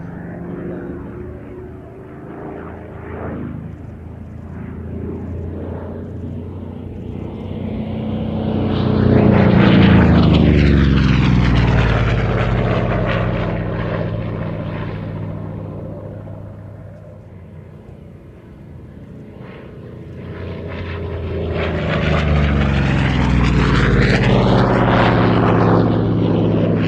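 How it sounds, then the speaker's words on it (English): A Goodyear-built, license-produced Vought Corsair propeller fighter flies past with a loud, droning piston-engine roar that swells and fades, then builds again on a second pass. "this is actually a license-built version of the Vought Corsair, built by the Goodyear Corporation in America"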